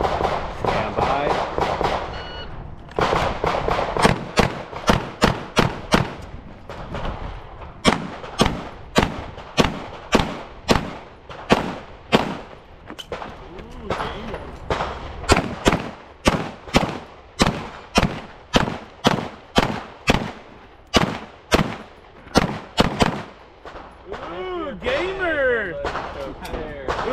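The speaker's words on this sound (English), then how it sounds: "I'm shooting a bone stock M&P right now" Gunshots from a bone-stock Smith & Wesson M&P pistol at a shooting match: loud, sharp reports fired in quick strings of several shots, with short pauses between bursts, close and dominant over faint background noise.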